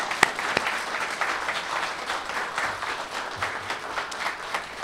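Audience applause for the staff of the Story Arts Centre at its 25th anniversary celebration, a steady broad wash of clapping lasting several seconds with a few sharper claps near the start.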